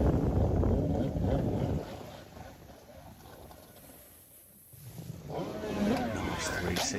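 Leastone Revolver personal watercraft with an ET 900 engine running at a freestyle competition, a steady engine roar that dips briefly midway and swells again, with wind buffeting the microphone and a commentator talking over it.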